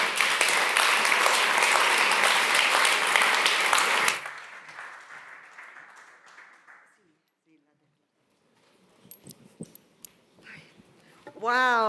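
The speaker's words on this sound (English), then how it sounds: "An applause for her, please." Loud, dense applause from a seated audience at a gastronomy summit session fills the first four seconds, then tapers into scattered claps and fades to near quiet, with a few faint knocks and voices near the end.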